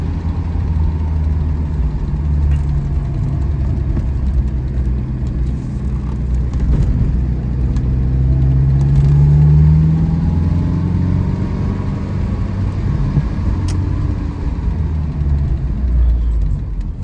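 A 1973 Alfa Romeo GTV engine hums steadily from inside the car while driving, a low continuous drone with gentle rises in pitch as revs climb, recorded close with road noise and no talk.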